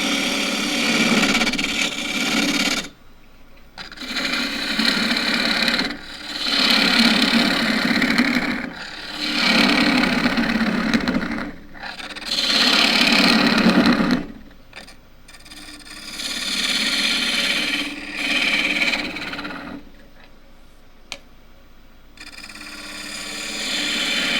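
Wood lathe turning a cracked fiddleback redgum bowl: a loud, harsh scraping cut from a gouge, heard in repeated bursts of several seconds each with brief pauses between passes, over a steady motor hum.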